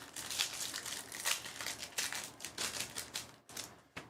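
Trading cards shuffled by hand during a card break: rapid, close, papery riffling and crinkling in repeated bursts, with brief pauses between passes and no speech.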